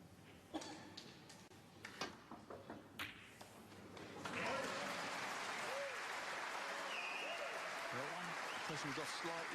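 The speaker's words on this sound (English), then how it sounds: "He's getting some applause" Applause rises from a snooker crowd at the German Masters 2017, swelling after a few scattered taps and thuds and holding steady as a broad wash of clapping under a commentator's voice.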